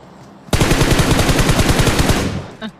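Rapid automatic gunfire in the mobile battle royale game PUBG Mobile, a single loud sustained burst of evenly spaced shots lasting about two seconds, followed by a brief faint tail.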